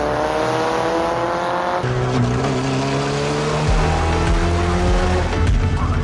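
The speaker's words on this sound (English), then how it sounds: "I know this is like a super janky F1 car" Cheap replica Formula One car driving: a steady, loud engine drone with rising and shifting pitch as it revs and accelerates, close by, with no talking heard.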